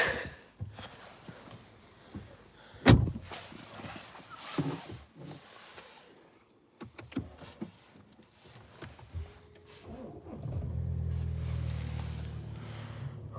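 A VW Golf 8 with a 2.0 diesel engine starts on a cold day after some quiet rustling and handling inside the car. A low, steady engine rumble then sets in and continues to the end.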